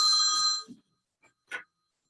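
A brand-new mobile phone rings briefly in a board meeting room, a short bright electronic ringtone burst followed by a couple of faint soft clicks and near silence.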